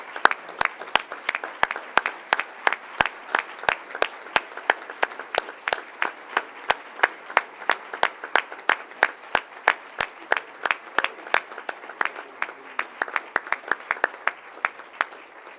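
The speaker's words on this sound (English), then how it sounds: "Let's give them a big round of applause for the work they've done for this" Applause at a school district board recognition, sparse and steady: a modest number of individual hand claps ring out distinctly one after another, fairly close, continuing for about fifteen seconds without voices.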